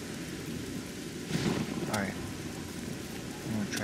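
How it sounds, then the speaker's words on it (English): Steady rain hiss with a low rumble of thunder in the video game Oblivion, filling the whole stretch evenly, with brief louder swells and someone talking over it. "Damn, it's starting to rain."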